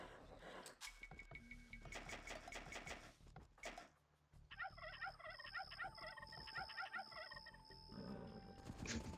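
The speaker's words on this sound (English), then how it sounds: "Fucking turkeys trying to kill my villagers" Turkeys gobble in a real-time strategy game during a 3 v 3 match on an islands map, with rapid warbling gobbles mixed among loud game effects and music.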